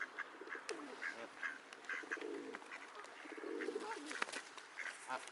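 Pigeons coo in a park among other birds, soft repeated cooing phrases with scattered calls, fairly faint and distant in open air.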